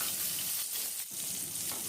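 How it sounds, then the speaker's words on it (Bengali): Pointed gourd (potol) pieces fry in a pan over low heat, giving a steady, close, even sizzle throughout with no voices. "কম আঁচে আমি পটলগুলো এবার ভাজছি, উল্টে পাল্টে সমান করে ভেজে তুলব।"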